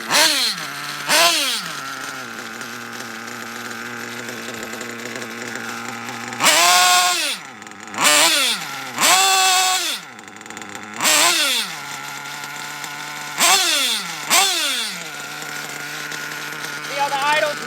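A nitro RC engine running rich at idle while being tuned, a steady buzzing idle close by broken by several sharp rising revs, with someone talking over it.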